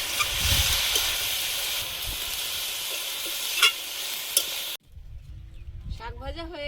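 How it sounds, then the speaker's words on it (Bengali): Leafy greens fry with garlic, salt, turmeric and green chilli over an outdoor wood fire, sizzling steadily with a few utensil taps. The sizzle cuts off near the end and a voice starts talking. "শাক ভাজা হয়ে গেছে"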